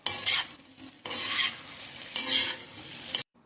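Pieces of fried chicken are tossed and stirred in a hot pan while making dragon chicken, giving three bursts of scraping, sizzling clatter separated by short pauses, close and fairly loud, with no talking.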